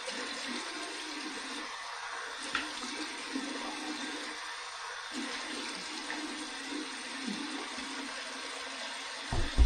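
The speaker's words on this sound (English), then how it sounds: "here's my cold water rinse" Tap water runs steadily for a cold rinse after a head shave, a soft, continuous splashing hiss at moderate distance with a few small knocks and splashes, no talking.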